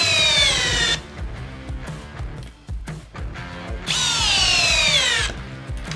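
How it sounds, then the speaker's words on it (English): A Hercules power drill drives lag bolts, its motor whining loud and close in two long bursts with a dip and stuttering bogging between them as the load rises. "now I'm gonna go ahead and try the lag bolts"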